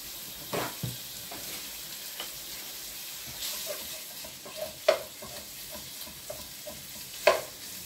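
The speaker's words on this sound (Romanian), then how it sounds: "Și în punctul ăsta începem să mărunțim." Minced meat frying in a pan for a spaghetti ragu sauce while being broken up and stirred, with a steady sizzle and a few sharp scraping clicks of the utensil, moderately close, no talk.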